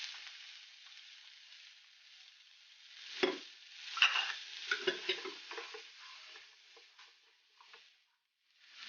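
Washed raw tamarind being stirred in a pan for pickle, soft oily sizzling with a few clinks and scrapes of the spoon clustered mid-clip, fairly quiet with no talk.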